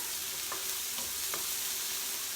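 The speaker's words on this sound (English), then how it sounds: "I'm gonna take a wooden spoon because I'm using a nonstick pan and I don't want to ruin my pan" Red onion sizzling in a nonstick pan and stirred with a wooden spoon, a steady hiss of frying with a few soft scraping strokes, alone and fairly quiet.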